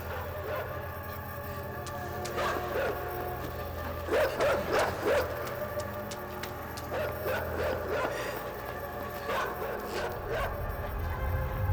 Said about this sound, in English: I despised the dogs because their bark was loud